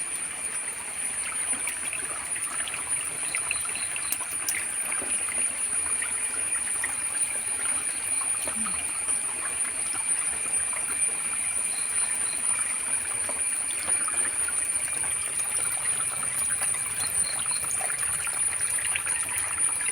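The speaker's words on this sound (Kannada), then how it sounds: "ಕಲ್ಲಿನ ಸಿಂಧಿಯಲ್ಲಿ ಈ ಥರ ನೀರು ಬರ್ತಿದೆ ಹೊರಕ್ಕೆ ನೀರು" Water trickles and flows continuously out of a rock crevice at a steady level, a gentle babbling stream sound with a faint high electronic whine over it.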